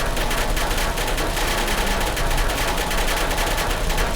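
Automated turrets firing in the Portal RTX mod video game, a continuous rapid machine-gun rattle, loud and unbroken throughout with no talking.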